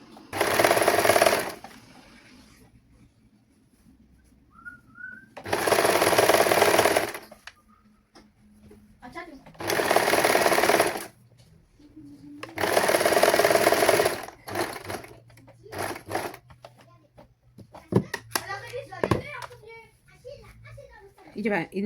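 An electric sewing machine stitches lining onto the neck of a prince-cut saree blouse in four loud, evenly spaced runs of a few seconds each, with quiet handling and a voice in the pauses.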